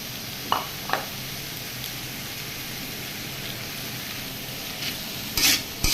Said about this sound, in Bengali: এবার কিছু সময় নাড়াচাড়া করে এটা নামিয়ে নেব